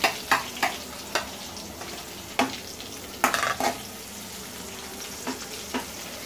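Onions fry with cumin and red chili in a pan, giving a close, steady sizzle broken by repeated sharp scrapes and clacks of a spoon stirring against the metal.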